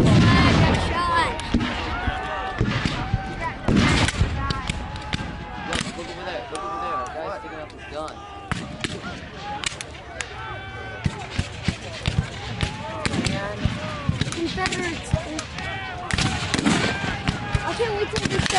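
Scattered crackling musket and rifle gunfire at a Civil War battle reenactment of the Battle of Pilot Knob, Missouri, with sharp pops throughout under nearby spectators' chatter.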